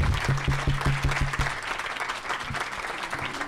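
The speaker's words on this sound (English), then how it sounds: "stand up and take a round of applause" A crowd at the Drive With Pride launch event claps for the steering committee members as they stand, giving a continuous round of applause with a low rumbling tone under the clapping early on.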